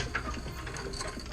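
A hand ratchet tightens a bolt on a truck differential drop kit on a 2013 Silverado, a brief, faint run of quick clicks.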